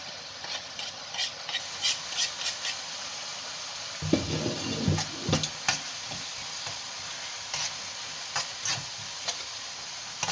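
Vegetables frying in a pan for an eggplant and tomato dish, with a soft background hiss of sizzling broken by a burst of close stirring scrapes and clatter near the middle and light taps afterward.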